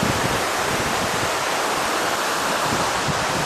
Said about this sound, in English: There's a lot of water going through there.